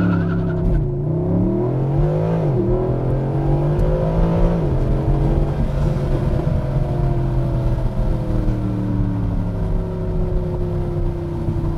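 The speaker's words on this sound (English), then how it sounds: "Basically hit the brake and gas. It's gonna rev it. And here we go." A Mercedes-Benz SLS AMG holds its revs for a race start launch, then roars off, the engine note rising and falling through gear changes, loud and close throughout with no talking.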